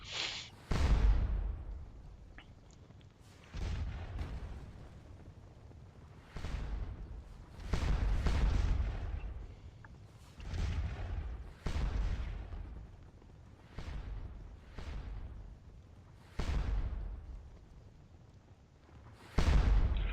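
Artillery in the Scourge of War Waterloo game keeps up a bombardment of heavy cannon booms, about a dozen sharp blasts at uneven intervals, each with a rumbling tail, and no talk.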